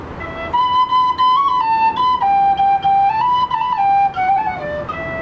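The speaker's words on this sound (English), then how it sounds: "he would pull out a whistle and he would begin to play." A whistle plays a slow, simple melody of clear, pure notes, stepping gently up and down with no other sounds around it.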